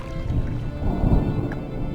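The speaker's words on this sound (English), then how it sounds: "Was that thunder? Still distant." Low, distant thunder rumbles in a loud swell across the scene in the video game Draugen, with rain and a steady wash of weather noise around a rowing boat on open water.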